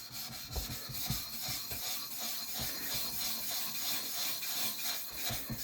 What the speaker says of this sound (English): Let's work up a slurry on this Kingstone using the 4000 grit or 400 grit, whichever.